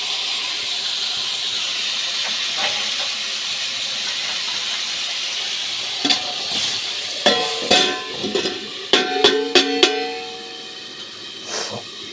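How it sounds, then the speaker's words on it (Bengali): Ridge gourd frying in a pan for jhinge posto, a steady hiss for several seconds, then a cluster of clattering stirring knocks near the end. "5 মিনিট ভেজে দেবো।"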